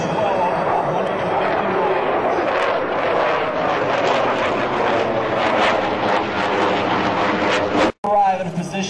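US Air Force F-16 fighter jets fly over during a joint force demonstration in Alaska, a sustained broad roar that swells and fades at a distance, ending abruptly, with a commentator talking over it.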